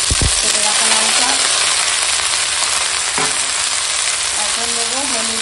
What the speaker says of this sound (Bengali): কাঁচা লঙ্কা পেঁয়াজ রসুন সব একসঙ্গে ভাজা হয়ে গেছে